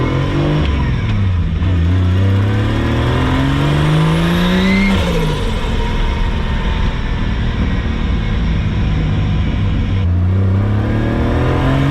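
A Nissan R32 Skyline with an RB30DET engine pulls hard on boost, loud and close from inside, engine note climbing steadily in pitch for several seconds, easing off, then rising again near the end.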